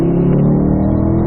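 A car under acceleration during a track driving lesson gives a steady, loud engine drone from inside the cabin, low and sustained with no break.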